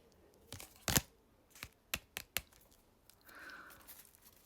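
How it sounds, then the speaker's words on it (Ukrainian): Quiet, close series of crisp snaps and flicks as tarot cards are drawn from a deck and slapped down, irregularly spaced over a few seconds. "Я просто витягую із колоди карти."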